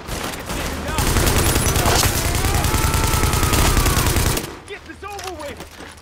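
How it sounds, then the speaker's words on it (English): Sustained, dense gunfire in the video game The Division rattles continuously for about four seconds, then fades as shouting game voices take over. "Incoming hostiles. Warning. Supplies taking fire."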